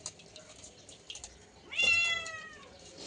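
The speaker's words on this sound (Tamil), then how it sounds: "பூனை சவுண்டுகிட்டே இருக்கு பாருங்க மேலே" A cat meows once with a clear, loud, drawn-out cry that slowly falls in pitch, heard close in a home kitchen where fish is being cleaned, with faint clatter before it and no talking.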